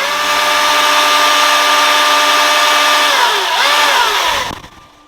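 Milwaukee cordless chainsaw cutting red gum bearers: a loud, steady electric whine under load that dips in pitch as the cut finishes, then quickly spins down and stops.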